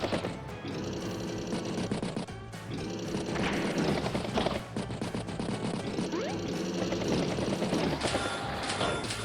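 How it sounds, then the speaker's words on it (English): Continuous loud game audio from Advance Wars as one battlecopter attacks another, with rapid machine-gun bursts and crashing impacts over a steady layered music bed, dense and unbroken throughout. "Battlecopter hits the battlecopter"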